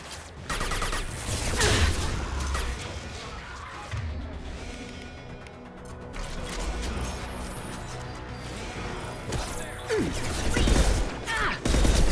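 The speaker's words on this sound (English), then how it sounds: "Oh, it's a burst rifle." Loud burst-rifle fire and explosive impacts in the sci-fi shooter Mass Effect Legendary Edition, with clustered bursts of shots, crashes and rumbling game effects filling the clip.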